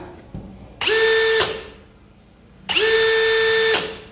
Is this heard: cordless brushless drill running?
yes